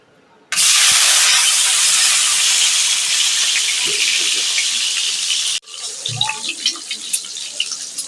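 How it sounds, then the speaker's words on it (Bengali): Eggs dropped into hot oil in a kadai burst into a sudden, loud, steady sizzle that holds for about five seconds and then cuts off, leaving quieter crackles and light clatter. "এখন আমি ডিমগুলো ভেজে নেব।"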